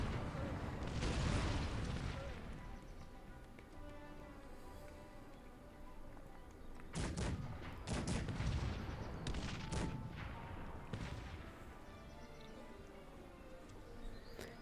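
Cannon artillery fires across a battlefield in Cossacks 3, with scattered heavy booms and bursts over a constant rumbling din. The shots are loudest early on and in a cluster later, with no talk.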